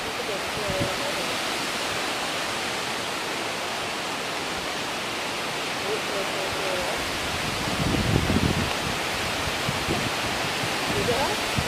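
Wind storm roaring through a tree, a steady broadband rush of gusting air and rustling foliage that swells louder for a few seconds midway before settling back to a constant whoosh.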